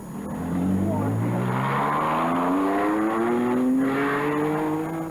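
Rally cars from the 1975 Circuit of Ireland Rally speeding along a night stage at Killarney Cross near Tullerone, engines droning loudly and rising steadily in pitch as they pass close by, with talk over the top.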